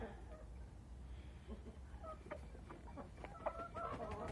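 A heavy breeding rooster weighing 3.6 kg clucks and calls softly in short bursts near the ground, joined by hens, over a steady low background hum.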